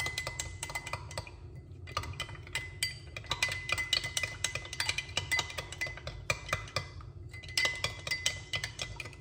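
A spoon clinks rapidly against a glass while a cayenne pepper drink is stirred, in several quick bursts of tinkling taps separated by short pauses.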